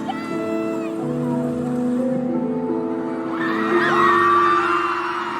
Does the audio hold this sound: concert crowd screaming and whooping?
yes